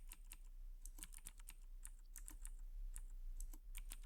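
Quick, irregular keystrokes clatter on a computer keyboard throughout, close and fairly quiet, with brief pauses between bursts of typing.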